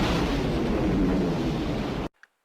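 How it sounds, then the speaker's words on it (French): Star Wars sound effect of the planet Alderaan exploding: a dense, roaring rumble of blast and debris that holds steady for about two seconds, then cuts off abruptly into near silence. "Ici, une scène de l'explosion de l'étoile d'Alderaan."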